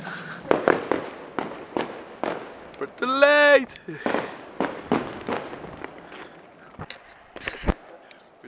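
Fireworks near a castle burst in sharp, irregular bangs and crackles, with a whistling rocket in the middle. People talk and exclaim between the explosions.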